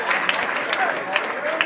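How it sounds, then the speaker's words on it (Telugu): An audience at a Telugu ghazal performance claps in a dense, steady burst of applause that fills the brief moment, with a voice audible over it. "అట్లా ఉన్నాయి మీకు కొట్టే చప్పట్లు దరిద్రంగా"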